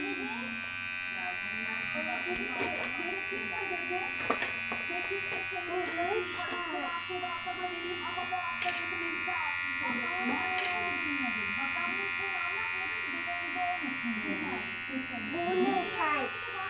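A Powertec TR 6500 electric trimmer-shaver hums steadily close by with a thin, even, high-pitched buzz, while a person talks over it throughout.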